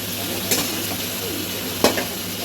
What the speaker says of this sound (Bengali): এবার আমি এই যে ম্যারিনেট করা মাংসটা দিয়ে দিলাম